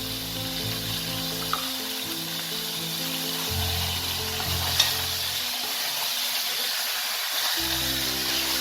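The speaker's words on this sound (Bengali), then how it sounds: "ভালো করে মাটনের সাথে মশলাটাকে এবার আমি অনেকক্ষণ ধরে কষাবো।" Large mutton pieces frying with spice masala in a pan for Kolkata-style biryani, a steady close sizzle with stirring scrapes and a few sharp clicks, while a low tonal hum rises and drops underneath.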